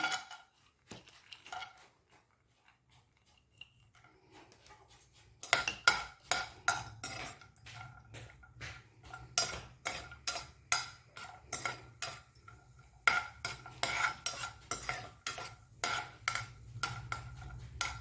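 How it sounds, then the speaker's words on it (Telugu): Cashews frying in hot ghee for restaurant-style carrot halwa, stirred with a metal utensil: quiet at first, then a steady run of close clinks and scrapes against the pan over a soft sizzle, with no talk. "నెయ్యి వేడెక్కిన తర్వాత ముందుగా జీడిపప్పులు వేయించుకుందాం"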